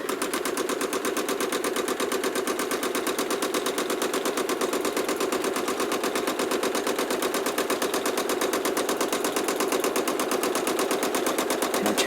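A home sewing machine stitches free-motion quilted feathers, running a rapid, steady mechanical chatter of needle strokes close up for the whole stretch, with no talking.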